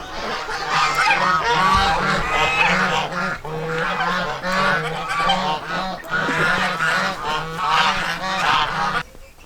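Penned geese honk loudly and repeatedly in a noisy, overlapping chorus, close by, with bursts of calls continuing without pause.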